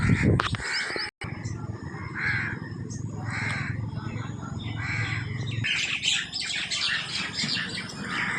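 Crows caw and squawk repeatedly among other chirping birds outdoors, a busy, loud chorus of calls over steady background noise, with speech present in the mix.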